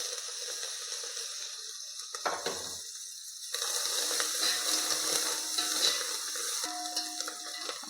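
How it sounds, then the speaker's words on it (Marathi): Tempering for Maharashtrian kadhi, with asafoetida, curry leaves and coriander frying in hot oil, gives a faint, continuous sizzling hiss that swells partway through. "आपल्याला फोडणी चांगली तळून घ्यायची आहे."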